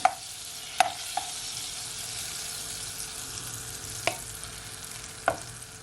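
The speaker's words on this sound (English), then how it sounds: "I'm firstly gonna add my butter, okay? Just gonna allow your butter to melt." Butter melting in a saucepan on a stove gives a steady soft sizzle, with a few sharp clicks or taps from a utensil against the pan at intervals. No voices.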